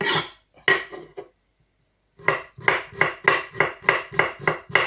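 A knife chops peeled garlic on a cutting board in quick, sharp taps: a short burst, a pause of about a second, then a steady run of even, close, loud knocks.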